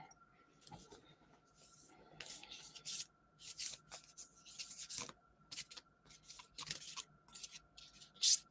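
Quiet, irregular papery riffles and rubbing bursts of tarot cards being shuffled, repeating over several seconds with short pauses, close by and without talk.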